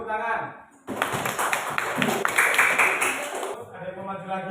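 A primary school classroom breaks into a burst of applause for a student, about three seconds of dense clapping that starts abruptly after a voice, then fades as voices return.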